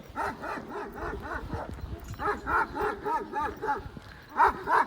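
Dog, a Turkish Kangal, barks in a steady rhythmic series of deep rough barks at moderate distance, continuing for about five seconds with a brief lull midway.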